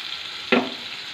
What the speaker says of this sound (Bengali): দিয়ে এটা ভালো করে কষাবো।